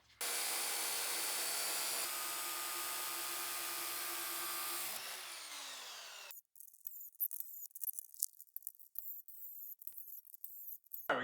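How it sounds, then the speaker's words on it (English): A chop saw fitted with a metal blade makes angled cuts for a hand-peeled log handrail at an off-grid cabin build: a loud, steady whining roar for several seconds that winds down, followed by scattered clicks and knocks. "I've outfitted my chop saw with this metal blade, and I think it'll allow me to make some angled cuts."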